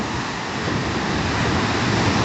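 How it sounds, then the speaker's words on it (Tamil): Ocean waves at Aazhimalai on the Kerala coast roar as a loud, steady wash of surf, with wind buffeting the microphone throughout and no voices. "இது கடல் ஆக்சுவலாக."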